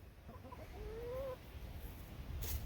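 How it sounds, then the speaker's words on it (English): Chickens cluck softly and a drawn-out hen call rises in the distance, faint over a low outdoor rumble with a brief noisy burst at the end. "Those are my family's chickens."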